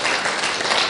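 A live audience applauds a long-married couple at an Afrikaans-language talk event, a loud, close burst of continuous clapping with no voices heard.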